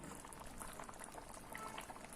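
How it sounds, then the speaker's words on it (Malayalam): Sardine curry bubbling in a ground fresh-coconut paste over a medium flame, a steady, close, continuous boil with dense popping bubbles throughout and no talk. "ഇനി ഇത് നന്നായിട്ടൊന്നും കൂടി തിളയ്ക്കണം തിളച്ചിട്ട് ഈ അരപ്പിൽ കിടന്ന് ഈ മീൻ നന്നായിട്ട് വേകണം"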